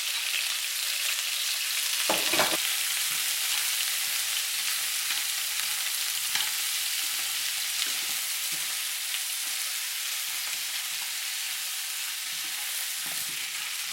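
Chopped ginger and garlic frying in hot oil for Chinese soy sauce spare ribs, a steady close sizzle running throughout, with a brief clatter of stirring near the start and no talking.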